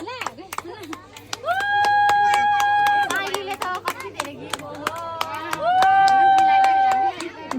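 Hands clapping at a family celebration for a sister's wedding: a run of sharp, close claps that comes and goes over steady music and background voices.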